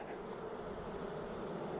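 Honey bees hum at an open hive being smoked, in a steady, dense drone, many insects buzzing together close by with no voices.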